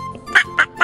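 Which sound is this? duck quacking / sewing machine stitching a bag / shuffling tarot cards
duck quacking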